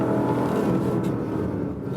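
A Porsche Panamera Turbo S E-Hybrid sedan on the move, its engine giving a steady, fairly loud drone with road noise, heard alone for about two seconds without talk.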